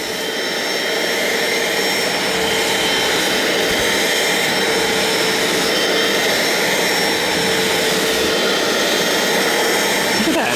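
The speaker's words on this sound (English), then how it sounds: "There's a lot of suction power." A Bissell Little Green ProHeat carpet cleaner pulls suction across a fabric sofa with a loud, constant, close-up motor and airflow roar that holds steady throughout.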